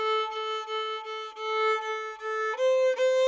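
Solo violin imitating the vocal phrasing of a song, with a smooth sustained line that shifts up in pitch near the end. The playing is close, clear and alone, with no voices.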